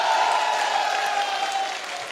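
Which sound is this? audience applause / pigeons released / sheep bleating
audience applause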